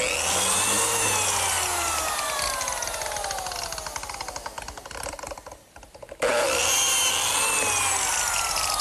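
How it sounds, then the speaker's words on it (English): A biscuit joiner's small saw blade plunges into wood, a loud, high motor whine that fades as the cut is made, cuts out briefly, then roars back at full speed. "I use this biscuit joiner, which is a tool specifically designed to pivot and plunge this little saw blade so that it makes a half moon for the biscuit"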